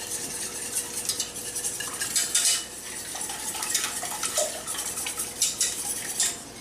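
Eggs and coconut milk are whisked together in a pan over medium heat for a vanilla custard, with a steady scraping and clinking of utensil against metal that stays close and continuous.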